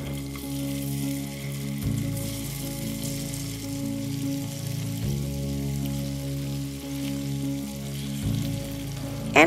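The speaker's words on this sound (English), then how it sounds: "so just frying them for 1 minute on each side will be fine." Fish sizzles steadily in hot oil in a pan, a continuous close crackle and hiss with a low hum underneath and a couple of brief shifts as pieces settle.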